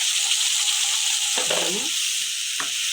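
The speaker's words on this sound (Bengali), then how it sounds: "এখন আমি পেঁয়াজ বাটা দিয়ে দিলাম" Onion paste fries in a pan with a loud, steady hiss close up, broken by brief scraping stirs and a short spoken word.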